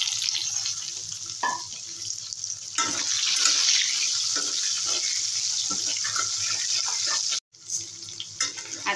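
Potatoes dropped into plenty of hot oil over sliced onion and dried red chillies, a loud, continuous hissing sizzle that settles into a steady fry with a brief cut near the end.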